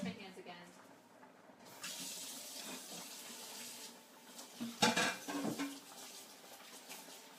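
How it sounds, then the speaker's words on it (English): Tap water runs into a kitchen sink as hands are washed, a soft close splashing with a few louder splatters and clinks, fairly quiet, with faint talk in the background. "Wash my hands again."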